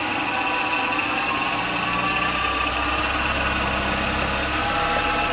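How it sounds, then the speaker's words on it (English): A wood lathe turning a rotten tree branch at low speed gives a steady, continuous motor hum and whir with a faint broadband hiss, running evenly and close by throughout with no talking. "Got the lathe turned down at the moment because obviously I don't know what that's going to do."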